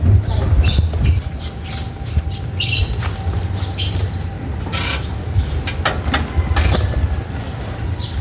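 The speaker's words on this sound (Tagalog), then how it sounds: "sarap pakinggan ng mga huni ng mga ibon" Birds chirp and squawk in scattered bursts nearby, over a constant low rumble like an idling engine.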